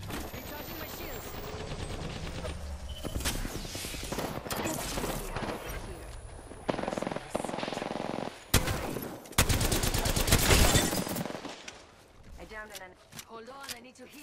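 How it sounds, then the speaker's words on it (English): Gunfire in the Apex Legends battle royale game: repeated automatic bursts and single shots, some loud and close, others quieter, broken by brief pauses, with a character's voice speaking between them. "They spotted me. I'm taking shots."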